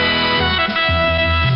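The CBS Radio network alert chirp, a short bright electronic tone, is clear and loud. It shifts pitch a few times within about a second and a half and has no talk over it.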